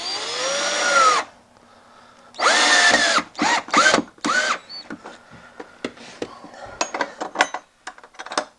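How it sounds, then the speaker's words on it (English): A power drill bores holes into a wooden table leg in a workshop for mounting casters. Loud bursts of drilling alternate with pauses, then give way to several short clicks and taps of handling, with no talking. "all 4 will be drilled in exactly the same place"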